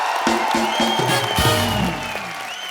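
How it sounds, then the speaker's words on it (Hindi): A studio audience at a comedy talk show bursts into dense applause with cheering, loud and sustained, over music and then easing slightly toward the end. "शाहरुख भाई के लिए जोरदार तालियां।"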